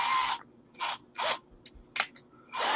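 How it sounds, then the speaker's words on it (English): A power drill bores out a plastic model part while a Millennium Falcon model is assembled. It gives several short, close whirring bursts separated by brief pauses. "let's go ahead and drill out this one"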